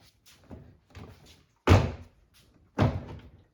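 Toyota Sienna interior door panel pressed into the door frame: a few light plastic taps, then two heavy hollow thumps spaced about a second apart, close by.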